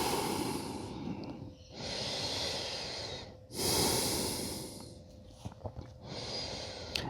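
Slow breaths drawn in and out through the nose, long soft airy rushes alternating with brief pauses, close up and quiet with no talking.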